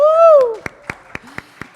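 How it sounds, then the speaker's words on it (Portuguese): After a brief spoken exclamation, about five single hand claps ring out in a slow, even rhythm in a quiet podcast studio, close and sparse rather than a full round of applause. "Aplausos!"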